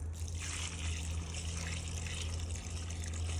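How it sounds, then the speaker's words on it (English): Water is poured over a dry concrete mix set around a pole, giving a steady trickling, splashing flow that runs unbroken throughout over a low constant hum. "A little bit of water."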